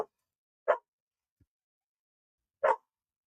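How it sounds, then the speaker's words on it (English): A dog gives two short barks about two seconds apart, close and fairly clear against a quiet room, with a faint thump between them, as dogs grow rambunctious before being fed. "Dogs are getting rambunctious just because they haven't been fed yet."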